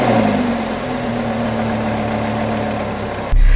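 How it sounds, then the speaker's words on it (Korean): A Lamborghini Gallardo LP550-2 Tricolore engine idles loud and close with a deep, even, slowly settling rumble, then a sudden shift near the end brings a heavier low thump. "저희 이 엔진 소리, 이 파워풀한 거 들을 때마다 굉장히 놀래요"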